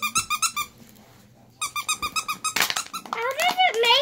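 A puppy-shaped squeaky toy squeezed in rapid bursts of sharp, bright squeaks, pausing and then resuming, with children's excited voices and shrieks rising near the end, close by in a bedroom.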